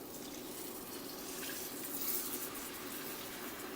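Water poured from a vessel into onions coated in spices in a tagine, a steady soft splashing pour that runs the whole time at low level, with no voices.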